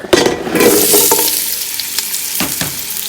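Butternut squash pieces hit hot oil in a pan with a loud, close burst of sizzling that settles into steady crackling, with a couple of stirring scrapes.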